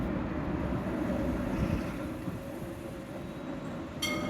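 A steady low rumble of a stationary train carriage fills the space, with a brief metallic clicking near the end.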